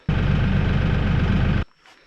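An LS tractor engine, freshly fueled with a 5-foot brush cutter attached, runs loud and steady at idle for about a second and a half before cutting off abruptly, leaving faint background noise.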